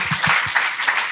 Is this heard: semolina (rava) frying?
no